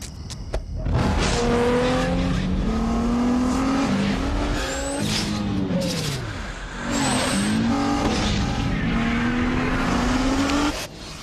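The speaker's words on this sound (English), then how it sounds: "The 265 horsepower Nissan Maxima." A 265-horsepower Nissan Maxima drives hard, its engine loudly revving and rising through gears with tires squealing and sliding, close and continuous for about eleven seconds with no talk.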